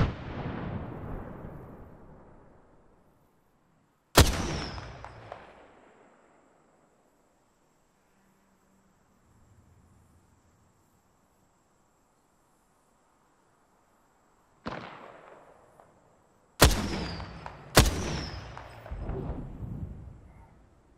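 Frag grenade detonations in Apex Legends, a heavy boom that trails off, then after a quiet stretch several more sharp blasts in quick succession, each with a lingering rumbling decay.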